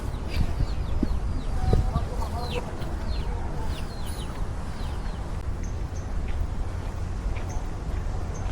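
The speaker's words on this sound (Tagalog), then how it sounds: "May mga manok din." Chickens clucking amid outdoor ambience on a hot day, with scattered short calls over a constant broadband background hum, moderately close, no speech.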